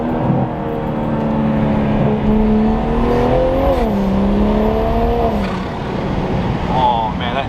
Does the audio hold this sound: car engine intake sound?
yes